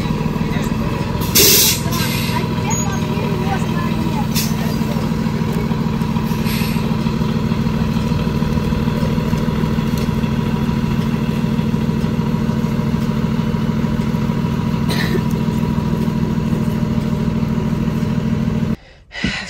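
A city bus idles at a Florida bus stop with a steady low engine rumble, and short hissing bursts of its air brakes rise above it as it pulls in. People talk nearby throughout.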